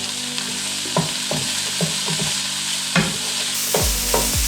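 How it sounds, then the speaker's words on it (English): Hash browns and sausage sizzle steadily in a frying pan while a spatula stirs them, scraping and clinking against the pan in short close strokes every second or so. "We're going to mix up the hash browns and the sausage."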